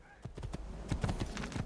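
Horse hooves clip-clopping on the ground in the video game Assassin's Creed 2, a steady run of quick, fairly close hoofbeats at moderate loudness with no one talking.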